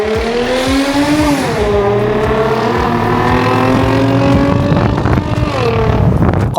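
A Toyota Mark X with a 2500 cc V6 revs up hard and close, its engine note climbing and sliding in pitch as it accelerates, loud and steady throughout with no talking.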